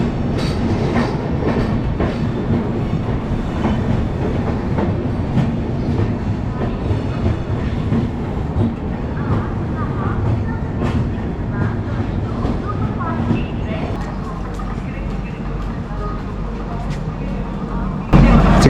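Duronto Express 12286 train running on rails between Delhi and Secunderabad, a steady loud rumble and rattle of wheels heard from inside the coach throughout, with a sharper burst at the very end.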